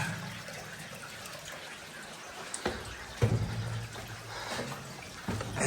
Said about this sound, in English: It's like being in a creek underground.